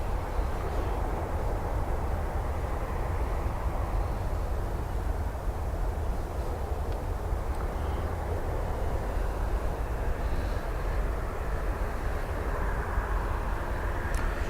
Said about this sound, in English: Qatar Dreamliner as well, taxiing towards us.